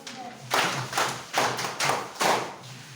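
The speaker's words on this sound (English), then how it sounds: "Clap for him, please." An audience gives four short bursts of clapping at a religious gathering, each swell rising and fading in turn, fairly close and loud, with no talk over it.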